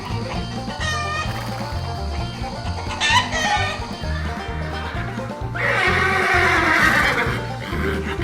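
A black stallion whinnies loudly, with a rooster crowing and hens clucking nearby, all over a steady, pulsing rhythmic backing.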